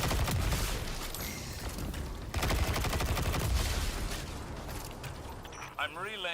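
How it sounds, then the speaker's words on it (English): Shotgun fire in the Destiny 2 video game: rapid bursts of gunfire and blasts in a busy, dense firefight, with game effects and a voice speaking over the shooting. "Shotgun, baby."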